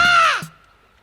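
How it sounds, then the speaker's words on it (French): A seagull perched on a seaside parapet gives one loud, harsh, close cry that falls in pitch and breaks off, then quiet follows. "Il y a une mouette posée sur le parapet qui crie très fort en nous regardant."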